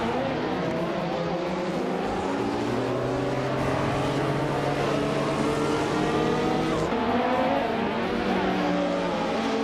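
A 2014 Ferrari F14T race car pulls away from pole at a race start, its engine roaring loud and continuous with rising pitch, tire noise and other cars close around it throughout.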